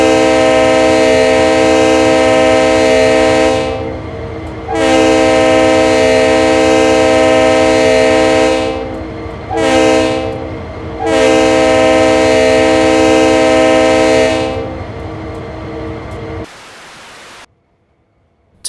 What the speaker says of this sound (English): at least this thing has a much better default horn sound than the other CSX locomotives